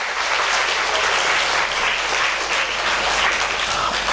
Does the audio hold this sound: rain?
no